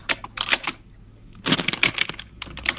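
Rapid clattering keystrokes on a computer keyboard, typed in two bursts separated by a short pause, fairly close and clear with no talking.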